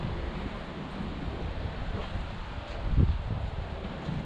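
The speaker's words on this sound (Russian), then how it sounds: "поднялся ветер." Wind gusting through a cemetery, a faint, steady rush with soft low buffeting on the microphone and a brief stronger gust.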